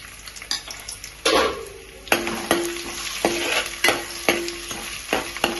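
Chopped ginger and garlic fry in a pan for a chicken masala fry, with a steady sizzle broken by a series of sharp spatula scrapes and stirring knocks against the pan.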